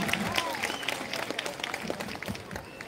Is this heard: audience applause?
yes